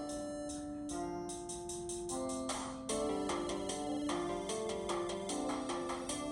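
A short electronic intro theme for the TBG Battle series, built in the Beatbox music app: bright bell-like synth notes in quick melodic runs over a steady backing tone, clear and upfront, no voices.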